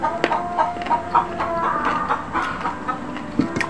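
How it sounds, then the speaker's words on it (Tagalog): Chickens cluck repeatedly around a rural family home, with short clucks and a rooster-like call scattered over a few seconds, fairly close and without speech. "May maraming manok dito."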